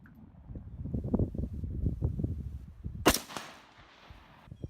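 A gun fires projectiles at test plates of materials such as hard rubber, pine wood, carbon steel and stainless steel outdoors, giving one sharp loud crack after a stretch of wind and rumble, with a brief decaying tail.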